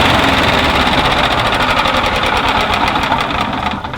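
A 1996 Yamaha G14 gas golf cart engine runs steadily in neutral through a new muffler, a loud, continuous buzzing drone with a fast, even pulsing beat that stays close and constant, easing slightly near the end.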